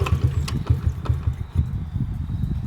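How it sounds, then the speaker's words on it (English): Dirt bike engine that has sat unused for more than five years sputters briefly on a kick start with choke on, a close, rough, uneven low chugging that never settles into a steady idle. "test kick over, make sure everything turns over okay"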